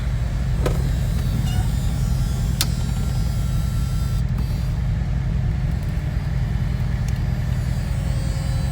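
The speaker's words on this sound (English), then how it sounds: "see the window started going down automatically for you" A Corvette's power window motor hums as the glass lowers automatically, a steady mechanical whine close by over the car's running engine, with no talking.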